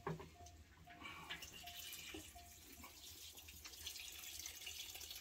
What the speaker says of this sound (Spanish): Vamos a echar agua y vamos a ponerlo a la lumbre